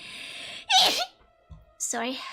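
A short sneeze bursts out, loud and close, followed after a brief pause by a person speaking.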